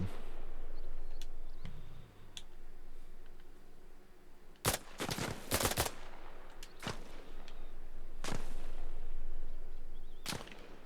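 Gunfire in Arma Reforger: sharp, loud rifle shots crack out irregularly, including a quick cluster of several rounds, over a quiet ambient outdoor background.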